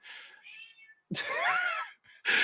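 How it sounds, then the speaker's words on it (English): An 18-year-old cat meows a few times close by, drawn-out and plaintive with short pauses between calls. "No, she's just meowing."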